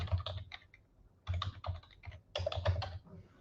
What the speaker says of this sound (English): Just type your cell in there.